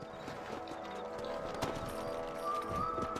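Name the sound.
horses trotting in a video game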